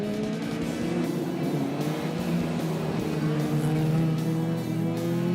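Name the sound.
race cars on circuit, Ford Fairlane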